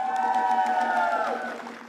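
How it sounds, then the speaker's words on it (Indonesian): A quiz show audience in Bali applauds, a brief dense burst of clapping and cheering that fades out over two seconds. "Tepuk tangan untuk kita semua pada hari ini"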